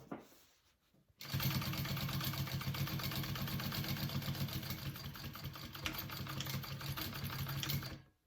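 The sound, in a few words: sewing machine sewing pocket onto bag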